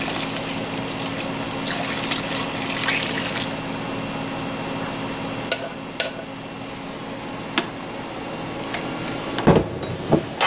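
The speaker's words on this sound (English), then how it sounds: "So I think I'll just go ahead and add all the water, give it a bit of a stir" Water is added to a warm liquid hand soap paste and stirred, giving a continuous watery swish with a few sharp knocks of the utensil against the pot near the end.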